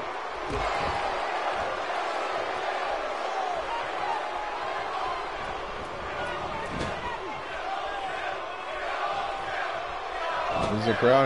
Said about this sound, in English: There's a crowd here at San Antonio chanting "Kill Owens, kill."